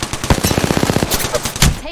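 Rapid automatic gunfire in the Apex Legends battle royale shooter, a loud close burst of evenly spaced shots rattling for about a second, then a few scattered heavier hits.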